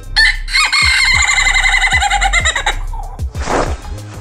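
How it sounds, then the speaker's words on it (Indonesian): A Bugis laughing chicken rooster crows loudly up close in a long, stuttering, cackling call that sounds like laughter, followed by a brief rustle. "ayam ini terkenal karena kokokannya yang unik, mirip suara orang ketawa"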